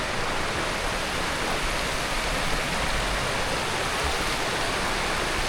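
Creek water flows steadily through a slot canyon, a continuous close rushing hiss with no breaks or voices.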